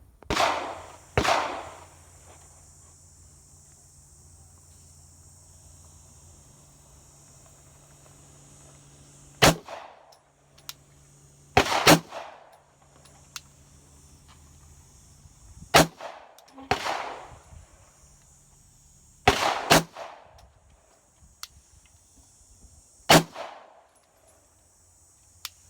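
A SIG P229 Legion pistol fires a five-round group at a shooting range: sharp, loud single reports spaced a few seconds apart, each with a brief ringing tail, over quiet background hiss.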